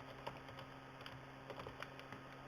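Quiet typing on a computer keyboard: soft, irregular key clicks in a close, low-level stream with a faint steady hum beneath and no voices.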